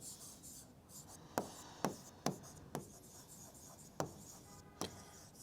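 Hand writing during a Class 10 maths lesson on arithmetic progressions: faint scratchy strokes across the page, punctuated by about seven sharp taps at irregular intervals, with no voice.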